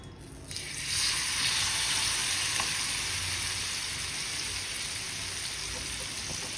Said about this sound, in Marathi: आलं लसूणची पेस्ट टाकते आणि आपण हे आता फ्राय करणार.